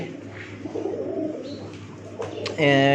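Pigeons cooing on a rooftop, soft low coos close by under background murmur, and a voice starting to speak at the end.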